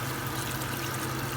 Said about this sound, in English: So what I'm going to do is put some more water.